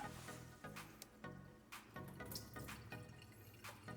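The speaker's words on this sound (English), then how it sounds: "This is the rule number 2 of making good sushi rice, is to make sure your rice is washed properly." Sushi rice being washed in water, with continuous sloshing and running water from a tap or sink, soft splashes and drips over a low steady rush, close by.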